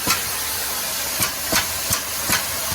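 Compressed air escaping from the pneumatic system of a scratch-built packaging machine, a steady close hiss with several short sharp bursts of air at irregular intervals.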